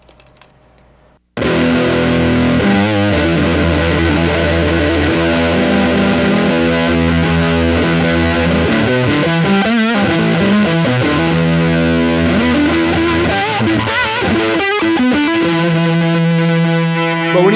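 Electric guitar, a Strat through an OC75 Tone Bender MKII clone fuzz pedal into a 5e3 amp, with the guitar volume fully up; a thick, loud sustained fuzz rings out after a quiet start and keeps going without talking.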